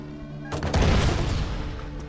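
An explosive grate is blown apart in the retro shooter Ion Fury: one loud close blast erupts after a short quiet stretch, then breaks into a rough crackling rumble that fades slowly.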